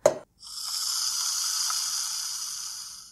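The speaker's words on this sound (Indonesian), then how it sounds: "Kalau kalian lagi nuangin ke gelas yang ada es batunya ya." Coca-Cola pour-into-glass-with-ice notification tone on a realme 10 Pro 5G Coca-Cola Edition phone: a quick clink or plop, then a steady bright fizzing pour lasting a few seconds, clear and alone.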